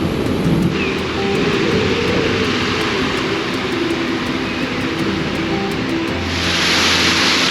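A waterfall in a Swiss alpine valley roars as a steady, broad rush of water, loud and unbroken throughout.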